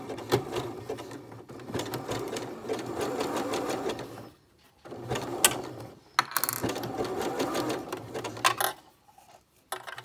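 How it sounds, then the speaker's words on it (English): A sewing machine stitches binding onto a bralette's elastic strap in several steady runs of rapid mechanical whirring, broken by short pauses between bursts. "then very slowly start stitching that"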